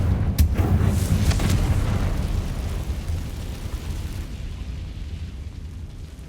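Confringo spell from the Hogwarts Legacy video game bursts with a sharp crack, then a loud rumbling explosion that rolls on and slowly fades over several seconds, with no talk.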